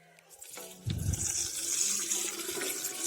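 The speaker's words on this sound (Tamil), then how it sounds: "இது முழுகிற அளவுக்கு நம்ம தண்ணி சேர்த்துக்கலாம்." Tap water runs and pours over chopped apples and jaggery while homemade apple cider vinegar is being prepared, a steady, close splashing stream after a brief quiet start.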